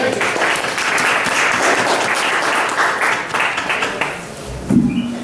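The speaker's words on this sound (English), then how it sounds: "let me just keep that applause going for our DJ" Applause from an open mic poetry crowd at Churchills in Flint, Michigan fills the room for the DJ, a dense steady wash of clapping that thins toward the end, with a brief voice near the close.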